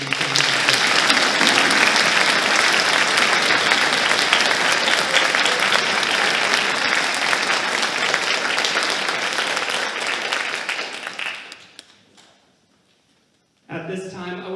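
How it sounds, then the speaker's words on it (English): At a high school spring orchestra concert, the audience applauds the student musicians in a long, full burst. It tapers off into a short silence, and then a voice starts speaking. "Would you please join me in a round of applause for these students?"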